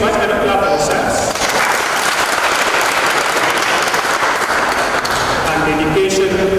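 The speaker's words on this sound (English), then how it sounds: "Thank you so much, and a clap for yourselves." Dense, steady applause from a livestream audience fills the whole stretch at a loud, even level, with some talk mixed in underneath.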